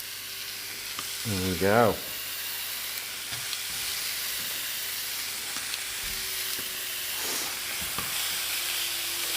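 Wild boar pork searing as it hits a preheated pan: a loud sizzle bursts at first contact, then settles into a steady hiss of frying, with a brief spoken remark over it.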